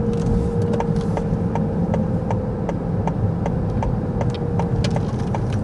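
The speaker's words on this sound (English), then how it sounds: "So a little night driving." A car being driven at night, a steady low road and engine rumble with a faint regular ticking running through it, continuous and unbroken with no talking.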